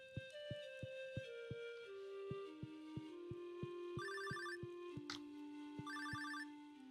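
A phone rings quietly in a room while being cleaned up. Its tones repeat in short trilling bursts over a steady, rhythmic pulsing tone.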